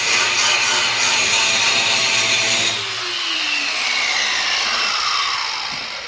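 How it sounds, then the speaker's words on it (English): A power tool grinds old weld off a jackknife trailer under repair, a loud, continuous harsh whine that shifts pitch partway through and stays steady to the end. "What I'm doing right now is just trying to clean up all the weld and everything that's on there."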